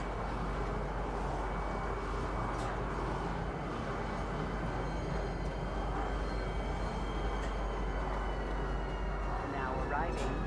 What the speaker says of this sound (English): Now arriving, Central Station. Please watch your step when disembarking the train.